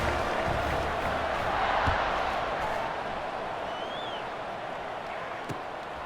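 A steady, loud crowd roar fills a college football stadium during a Louisiana Cajuns game against Georgia State, with a broad wash of many voices and a few faint claps or thumps rising and falling.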